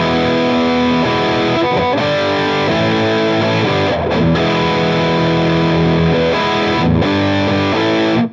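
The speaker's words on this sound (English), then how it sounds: "This is what it sounds like with the Tube Screamer in front of the Black Op." A heavily overdriven electric guitar plays chords and sustained notes through a Tube Screamer stacked before a Black Op distortion pedal on a Headrush MX5, loud and continuous with no voices.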